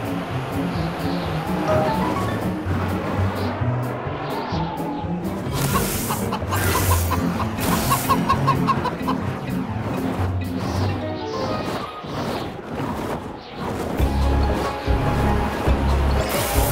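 Cartoon chicken clucking blends into a dense, steady bed of music and sound effects, with scattered crash-like hits and no clear speech.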